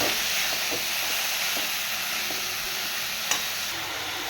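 Banana flower sautéing in a pan after salt is added gives a continuous hissing sizzle, close and moderately loud, with occasional soft knocks from stirring and no voices.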